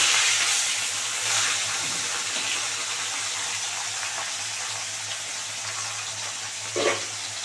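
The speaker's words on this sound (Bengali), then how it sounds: "তারপর মাছগুলো ভালো করে কড়া করে ভেজে নেব" Hot oil sizzles steadily as rohu fish pieces fry crisp, a dense close crackle holding fairly even throughout with no talk.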